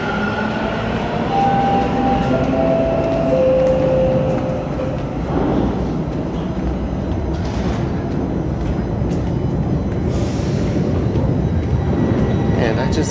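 Toronto subway train running through an underground station on the Bloor-Yonge line, a loud steady rumble with rising and falling squealing tones and bursts of brake hiss, continuous throughout.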